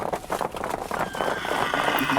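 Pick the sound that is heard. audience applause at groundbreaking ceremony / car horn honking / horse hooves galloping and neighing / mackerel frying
horse hooves galloping and neighing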